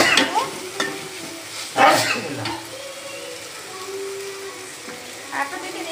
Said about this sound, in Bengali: এখন ভালো করে মশলাটা আমি কষিয়ে নিব, মানে হালকা একটু ভেজে নেব